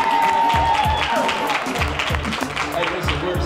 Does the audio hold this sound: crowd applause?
yes